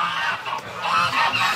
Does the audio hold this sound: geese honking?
yes